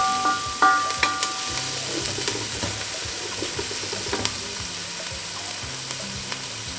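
Minced garlic frying in a hot pan gives a steady, close sizzle with a few utensil taps and stirring scrapes near the start, and no voices.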